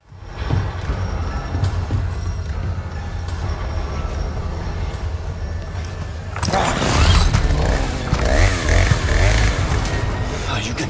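Chainsaw of a villager in the Resident Evil 4 Remake video game revving up loudly about six seconds in, a rough buzzing roar that swells over a low game rumble and stays loud to the end.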